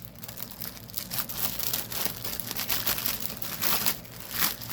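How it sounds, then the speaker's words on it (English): A crinkly plastic bag rustles and crackles as a pre-stamped cross stitch kit is pulled out, a continuous close-up crinkling with bursts of louder crunching. "Get it out of the crinkly bag."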